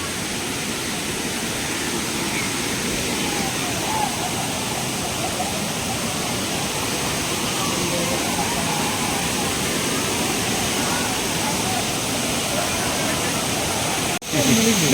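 Constant dense rush of Anachadikuthu waterfall in Kerala, a hazardous falls with slippery rocks, roaring evenly throughout at close range until a sudden bump and louder burst at the very end.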